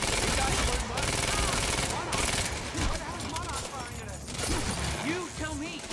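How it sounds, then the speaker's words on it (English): Rapid bursts of automatic gunfire from the video game Quantum Break crackle continuously and loudly, with voices talking over the shooting. "You heard the gunfire."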